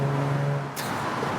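A 2017 Jaguar F-Type V6 with its exhaust valve open, a loud deep droning exhaust note that holds steady, then drops away into a rougher, lower rumble after a sharp burst midway.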